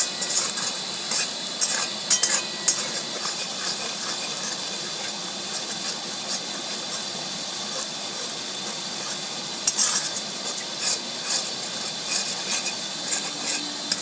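Chopped onions brown in hot oil in a pan for an egg tadka, giving off a steady soft sizzle with faint scrapes of stirring throughout and no talking.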